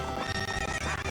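A horse whinnies over steady clip-clop hoofbeats during horse racing in The Legend of Zelda: Ocarina of Time, loud and continuous, with a busy, dense game mix filling the background.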